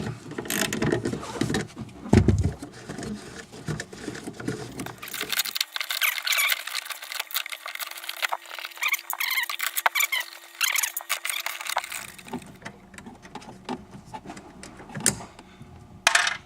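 Nuts come loose on a 1997 BMW E36 M3 sedan tail light, heard as close squeaking and ratcheting mechanical clicks in uneven bursts, with a thin sustained squeal through the middle.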